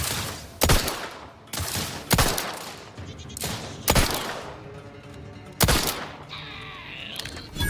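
Gunfire in the video game The Outer Worlds 2, played on hardest difficulty: several sharp, loud shots burst at irregular intervals over a steady rumble of ongoing combat.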